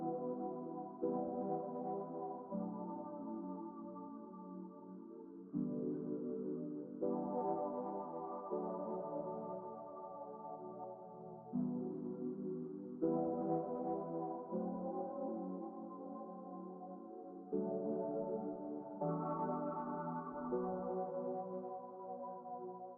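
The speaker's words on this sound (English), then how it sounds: "So I added like this synth pad that sounds like this." Sustained synth pad chords drenched in reverb and delay, with a gritty downsampled texture, shifting through slow chord changes every few seconds at an even, full level with no voices.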